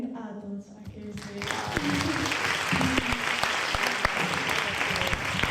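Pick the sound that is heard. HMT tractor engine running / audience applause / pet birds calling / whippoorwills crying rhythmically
audience applause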